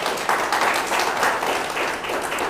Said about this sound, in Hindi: एक बार जोरदार ताली बजाओ उनके लिए